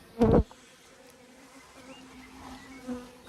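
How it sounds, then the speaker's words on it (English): Honeybees from a split hive fly around the beekeeper, making a faint, drifting buzz after a brief loud knock at the start, with no talking. "the hive that I took them from did not appreciate it. So they're all buzzing around me at the minute."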